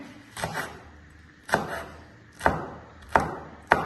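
A knife chops green chilies into rounds on a board in five sharp, separate strikes, spaced unevenly, close and crisp with brief ringing tails and no talking.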